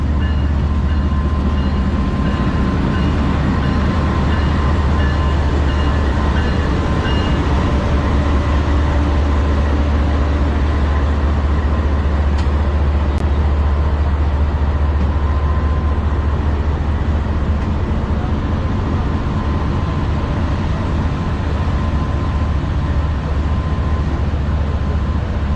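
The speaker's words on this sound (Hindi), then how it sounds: "555 लोकोमोटिव आ रहा है जी अटैच होने के लिए लाहौर से मारगला तक के लिए" A G24 555 locomotive approaching to couple onto passenger coaches for a Lahore to Margalla service, a loud continuous rumble of diesel engine and rolling rail noise with a steady hum, no voices.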